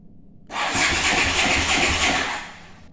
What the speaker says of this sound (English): Oh, there we go. Engine run on.